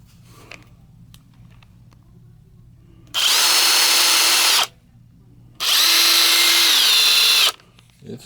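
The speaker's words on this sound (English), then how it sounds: "It's drilling, it's impacting." Kobalt brushless 24 volt drill/impact driver running in two loud bursts of about one and a half to two seconds each, separated by quiet pauses, with a steady high motor whine and no talking.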